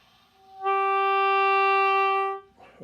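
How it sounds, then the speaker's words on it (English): A single sustained oboe note, steady and bright, held for almost two seconds and preceded by a soft breathy rush of air before the tone begins, close and clear, with a faint breath after it ends. "Now you hear the little bit of air that happens before the note starts."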